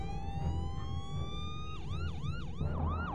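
An ambulance siren wails with a steady rising tone, then switches to a fast repeating yelp, loud and close over low engine rumble, with no talk.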